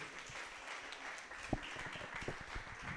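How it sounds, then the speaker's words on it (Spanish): Quiet, steady applause from a gathered audience at the presentation of a book's author during an oral tradition festival in Granada, a soft continuous patter of many hands with a few sharper claps standing out. "Les pido un aplauso para el escritor de este libro"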